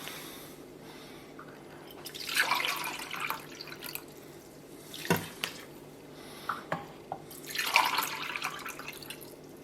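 Water poured into injera batter in a bowl, a splashing, dripping stream in two main bursts with softer trickles between, close and fairly quiet, no talking.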